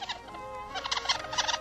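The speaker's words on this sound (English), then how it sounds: "It's a young seagull." Young seagull calling, a burst of quick, high squeaky chirps and gabbling cries at close range, repeated in short rapid clusters over a faint background.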